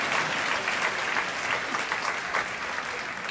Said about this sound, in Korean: 우리 유모차 무대 한 박수 환영합니다.